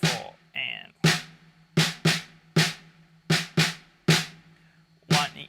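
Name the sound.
syncopated snare drum pattern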